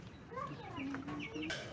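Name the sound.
chickens clucking on a Philippine chicken farm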